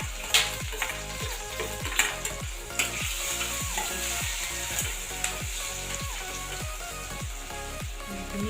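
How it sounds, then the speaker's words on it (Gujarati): A small chopped onion sautés in a pan with chilli powder and turmeric, crackling in a steady sizzle while a spoon scrapes and stirs in a regular rhythm about once a second. "પહેલાં આપણે ડુંગળી સાંતળી લેવાની એ સરસ રીતે ડુંગળી"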